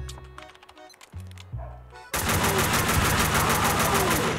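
Kalashnikov rifle gunfire in the Max Payne video game: a few scattered game sounds and tones, then a sudden continuous loud burst of rapid automatic fire that runs to the end, close and dense.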